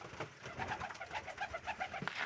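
Pigeons coo steadily in soft, rounded repeated calls, several birds close together outdoors where rabbits also feed on millet, continuous and moderately quiet.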